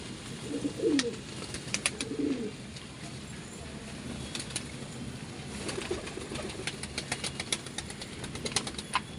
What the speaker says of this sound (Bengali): সুস্থই আছে পায়রা, অসুস্থ কিছু নেই